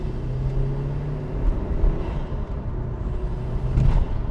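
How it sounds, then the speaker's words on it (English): A 2000 Mitsubishi Lancer Evo Tommi Makinen cruises at about 70 mph on an A road, with a steady, close engine drone and road rumble throughout and no talking. "I'm going to take this car on the A road so you can see what this car's like at high speeds"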